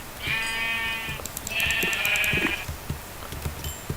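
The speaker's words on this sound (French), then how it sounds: "Oh là, mais il y a de moutons ici." Two drawn-out sheep bleats from a video game, each lasting about a second with a short gap between them, fairly close and clear, followed by soft scattered clicks and light game noise.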